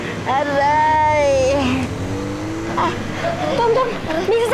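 A car approaches with tires squealing, a loud rising and falling screech with an engine roar beneath, close and dominant for several seconds while a voice cries out over it.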